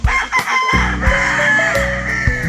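Several gamecock roosters on a breeding farm crow loudly and close by, their long calls overlapping across the whole stretch with barely a pause.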